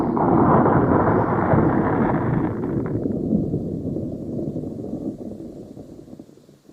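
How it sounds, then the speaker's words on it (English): Thick ice cracking with a deep, rumbling roar like distant thunder, loud at first, then easing into a low sustained rumble that slowly fades away. "The ice beneath them is so thick that when it cracks, it sounds like a thunderstorm."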